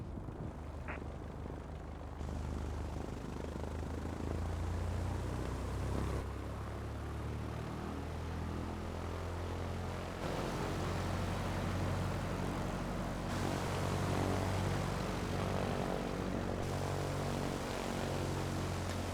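A Piper propeller airplane in a flight simulator game, taking off from runway 10 left: a continuous droning engine hum, steady and fairly loud throughout, with no speech.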